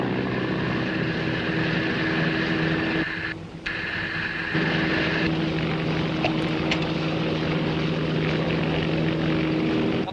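Steady drone of a propeller airplane engine, continuous and fairly loud for the full length, with a brief dip partway through and no talking.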